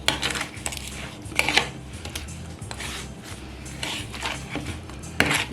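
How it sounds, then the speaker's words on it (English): A spoon scrapes and clinks against a pot while browning sauce is stirred into oxtail, giving irregular metallic rubs and a few sharper taps at close range with no talk. "we're gonna stir this nicely"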